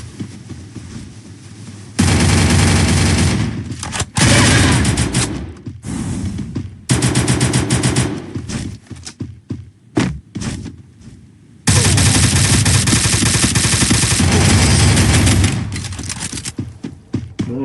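Rapid bursts of gunfire from a shooter video game crackle loudly in long sustained volleys, broken by short gaps and quieter stretches.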